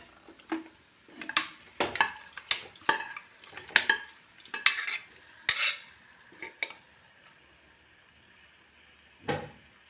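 Cooked chicken is stirred into a spiced masala for a homestyle Kerala chicken curry, giving repeated scraping and clattering strokes of a utensil against the pan with faint sizzling between them, and one last stir after a short pause.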